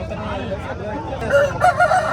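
A 3.5 kg red kiri rooster, a year and a half old, crowing at a poultry market in Mydukuru, a loud nearby crow over market clamour and voices.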